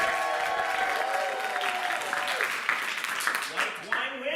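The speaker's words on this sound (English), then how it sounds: "Please applaud for one of the following." Audience applause at a holiday watch party casts a vote for an option. Steady, moderate clapping runs for several seconds beneath a speaker's voice and thins out toward the end.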